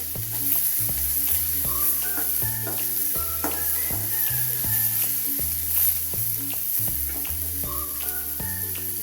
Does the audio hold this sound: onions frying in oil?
yes